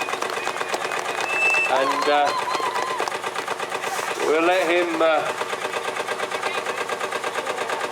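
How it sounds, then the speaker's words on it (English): A vintage Field Marshall tractor engine running at a steam and vintage show arena, a steady rapid thudding beat that continues under someone talking over a public address. "You all know how to start a field marshal tractor now."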